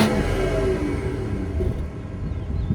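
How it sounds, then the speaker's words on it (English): A 2018 BMW 540i's low, steady exhaust rumble, fairly close and continuous, fading slightly toward the end. "now that you heard what the car sounds like"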